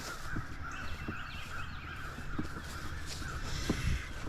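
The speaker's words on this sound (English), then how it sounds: "Listen to these crows." Several crows caw in short bursts at a distance over an outdoor background hiss during a Kentucky turkey hunt, the calls spaced irregularly.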